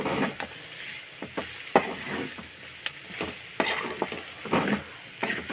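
Food frying in a pan, a spicy Telugu home-style fry done pakora-like, with steady sizzling broken by repeated sharp scrapes and clinks of a spatula stirring against the pan, close and fairly loud, with no talking.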